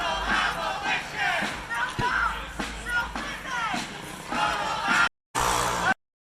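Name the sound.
crowd of protesters shouting in the streets of Portland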